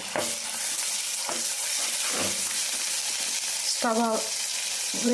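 Ground gongura leaves frying with garlic and turmeric in a pan give a steady broadband sizzle and hiss, with occasional stirring scrapes and brief tonal clatters over the continuous frying noise.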